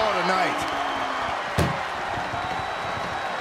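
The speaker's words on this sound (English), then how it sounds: "Load her into that ambulance and slam those doors." An ambulance door slams once, a single sharp impact in a wrestling video game, heard under commentary and crowd noise.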